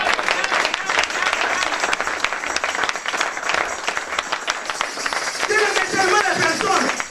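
Congregation at a French-language church service applauding and cheering in praise of God, a dense, steady wash of clapping and voices filling the whole stretch, with crowd cheers rising toward the end.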